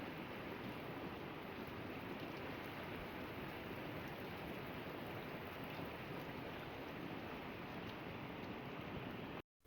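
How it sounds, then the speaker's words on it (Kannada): Steady rain falling over an areca nut plantation beside a house, a dense, unbroken hiss that holds at an even level throughout with no voices, ending abruptly at the very end. "ಈ ಮಳೆ ಅಂತೂ ಒಂದೇ ಸಮ ಬೀಳ್ತಾ ಇದ್ರೆ ಸಿಕ್ಕಾಪಟ್ಟೆ ಚಳಿ."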